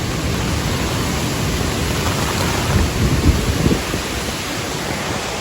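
Heavy rain pours steadily on a ridge above a lake during a thunderstorm, a dense close hiss with a low rumble of thunder swelling in the middle, no voices.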